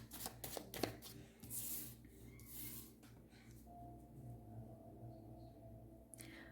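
Tarot cards are shuffled and drawn from a deck at close range, with a quick burst of riffling and flicking early on, then soft sliding and handling noises over a steady low background hum.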